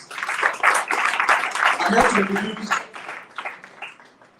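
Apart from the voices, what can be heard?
audience applause for mentors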